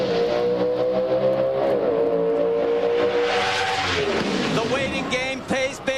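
NHRA Pro Stock drag race cars scream at high revs and rise in pitch as they launch hard at Las Vegas, loud and close, with a voice talking over them before they fade.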